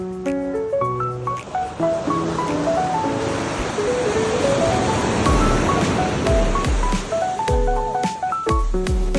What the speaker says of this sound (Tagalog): Medyo maalon din ang dagat dito. Hindi siya payapa.